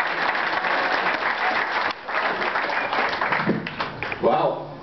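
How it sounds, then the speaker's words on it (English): A comedy club audience gives warm applause for an amateur comedian. The clapping is dense and sustained, then fades near the end as a voice begins speaking over the last of it. "Give him a nice big round of applause."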